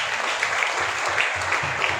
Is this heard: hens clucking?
no